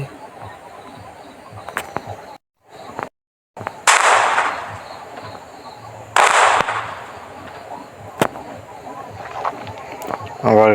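Gunfire in the Franklin Indian bike driving 3D game, sharp shots and louder bursts popping at irregular intervals over a background of ambient game noise.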